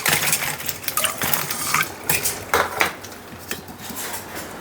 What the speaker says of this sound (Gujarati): ને બરફના ટુકડા નાખું